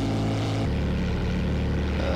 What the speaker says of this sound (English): This is the outside of the Grumman Goose.